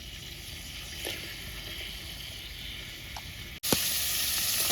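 Oil heats in a hot pan at a riverside camp cooking a spicy crab curry, giving a steady hissing sizzle that holds evenly, broken by a brief dropout before it swells back louder and brighter.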